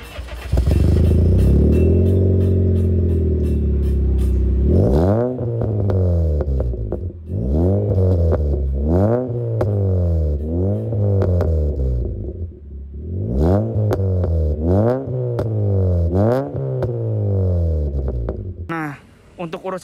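A Honda Freed MPV with a Greddy exhaust revs repeatedly, its engine note climbing and falling in a series of loud, close blips after an initial steady drone, with a person speaking over it.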